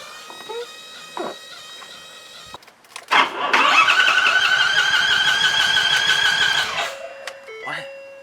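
A broken-down truck engine cranks with a steady rapid starter churn for several seconds but never catches, then goes quiet; warning chimes and a brief voice come before and after.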